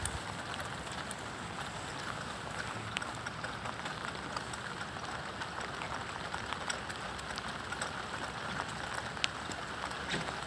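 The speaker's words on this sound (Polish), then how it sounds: "podoba Ci się deszczyk?" Light rain falls outdoors in a soft, even hiss, with faint scattered drips and taps standing out now and then.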